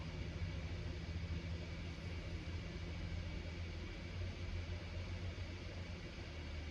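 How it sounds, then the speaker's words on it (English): Computer fans on a GTX 1070 Ti graphics card spin up during boot, a steady low whooshing hum with broadband airflow noise, constant and close, with no talk. "Fans are spinning on the 1070 Ti, so that's good."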